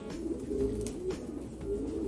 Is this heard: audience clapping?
no